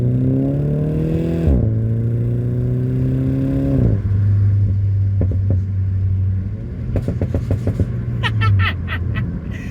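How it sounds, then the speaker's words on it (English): Steady low rumble and broadband whoosh of wind rushing past a moving car near an open panoramic sunroof, with engine drone shifting in pitch and a burst of rattly clatter toward the end. "there's massive amounts of wind blowing by"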